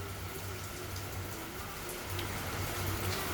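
Steady rain patters down in a continuous wash, with a low hum underneath and no voices.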